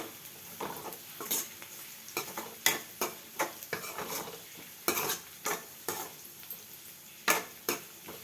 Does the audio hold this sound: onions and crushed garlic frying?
yes